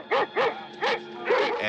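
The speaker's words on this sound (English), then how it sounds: "And dogs in Night of the Living Dead" Dogs bark in a film soundtrack, four sharp close barks in quick succession with short gaps between them.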